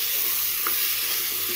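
Ginger garlic paste fries in a pan for a vegetable biryani, giving a steady, close, continuous sizzle with faint stirring and no voices.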